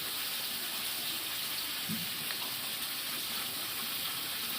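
Tap water running strongly, a steady broadband rush that holds evenly throughout at moderate level, with no voices.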